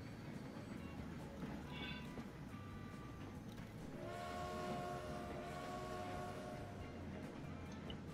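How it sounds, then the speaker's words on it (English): Trams roll in within the video game Transport Fever, with a continuous rail rumble and a rising, sustained tonal whine of wheels or horn, heard at low level throughout. "Okay, and the trams are rolling in."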